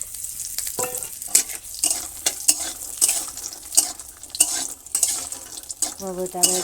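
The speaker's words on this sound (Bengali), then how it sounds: "তেল তো হয়ে গেছে আর কুমড়োর বড়িগুলো আমি দিয়ে দেবো" Dried pumpkin lentil dumplings (bori) frying in hot oil in a village kitchen, a busy crackling sizzle with a spoon stirring and scraping the pan, close and fairly loud throughout, no one speaking.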